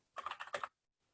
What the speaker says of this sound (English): So I can type in a massive sentence like,